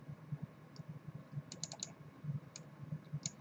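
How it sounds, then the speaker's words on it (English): A computer mouse clicks while the user works in inLab dental design software, giving sharp, close, quiet clicks in a quick irregular run that includes a few double clicks, with no talking. "Just double click to start, click, click, double click to end."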